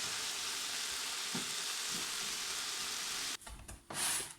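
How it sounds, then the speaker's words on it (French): A honey mixture caramelizing in a pan gives a steady, dense sizzling hiss for several seconds, then a few louder crackles and scrapes near the end, with no voices. "Regardez, l'eau s'évapore et le miel commence à aider à la caramélisation."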